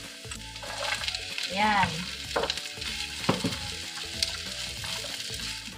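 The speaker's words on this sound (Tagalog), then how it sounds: "ang isusunod naman nating ilagay ay ang ating onions" Onions and garlic fry in a hot pan with a continuous loud sizzle, stirred now and then, while someone briefly speaks over the cooking.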